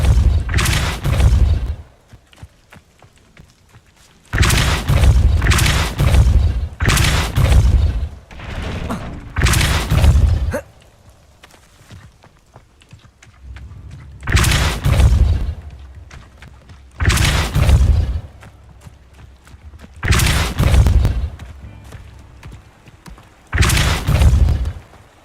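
A force spell is cast again and again in the Hogwarts Legacy video game, a series of heavy thumping blasts. Each one lands with a deep boom and is followed by quiet before the next.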